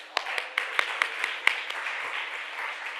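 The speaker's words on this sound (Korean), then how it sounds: "여러분 우선 박수 한번 주시죠" A church youth congregation at a Sunday worship service gives a round of applause. It opens with several distinct, evenly spaced claps, then swells into a steady wash of many hands clapping together at moderate volume.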